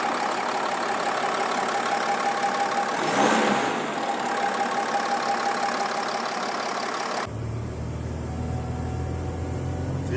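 A Nissan Pathfinder with a V9X diesel engine under repair idles close up with a steady mechanical drone and faint hiss, briefly swelling mid-way before the tone drops to a lower, rougher rumble.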